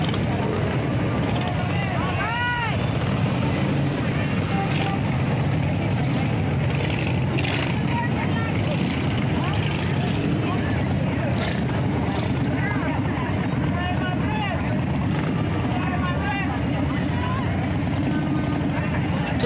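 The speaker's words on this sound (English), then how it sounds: "Motorcycles." Motorcycles decorated with Christmas lights roll past in the 2015 Bakersfield Christmas Parade, ridden by the Sikh Riders of America; a loud, continuous engine rumble with passing swells, and people talk over it.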